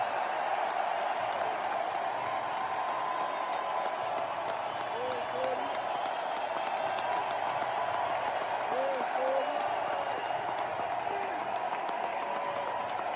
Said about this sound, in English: he got an unbelievable standing ovation when they announced his name